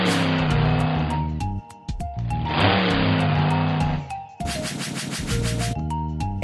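A car engine revs and accelerates loudly in three steady surges, with bright, buzzy harmonic tones and brief dips between them, and no talking.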